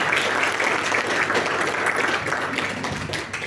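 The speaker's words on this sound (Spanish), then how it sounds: "Fuerte el aplauso, por favor." An audience at a numismatic circle evening in Santa Cruz, Bolivia, claps loudly and continuously for a club president, a dense, even wash of many hands close by.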